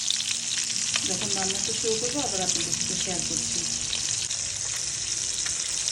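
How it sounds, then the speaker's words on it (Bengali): Pieces of fish fry in hot oil with salt and turmeric, giving a constant bright sizzle with occasional stirring nearby while someone talks over it. "লবণ হলুদ দিয়ে ভেজে নিচ্ছি"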